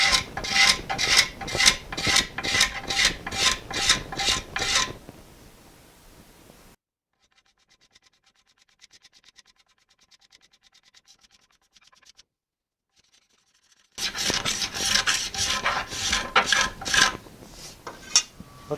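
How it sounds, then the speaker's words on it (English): Rhythmic rasping strokes of a scraper taking wood off the limb of a hollow limb self bow, about a dozen quick passes, then near silence with faint ticks, then another burst of close, regular scraping. "I just need to take some scrapes out right in here"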